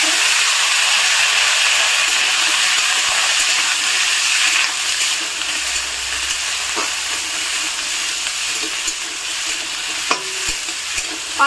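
Food cooks in a small amount of oil with a steady, fairly loud broadband hiss, a few soft clicks and knocks from a utensil near the end, and no talking.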